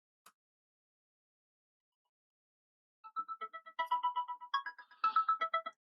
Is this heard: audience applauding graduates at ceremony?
no